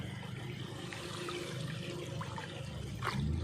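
Floodwater flows steadily across a flooded rice paddy, a continuous rushing wash that grows slightly louder near the end, with no speech.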